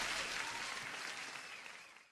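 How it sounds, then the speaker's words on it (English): Sustained applause from a live-stream audience, dense and steady throughout, slowly tapering toward the end with no voices over it. "Huge applause for the support and everybody."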